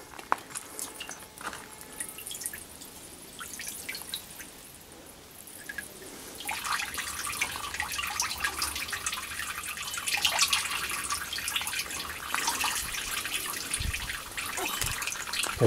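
Water poured onto a kokedama moss-ball plant, starting as faint trickles and drips, then a steadier soft splashing stream in the second half, close and quiet with no talk.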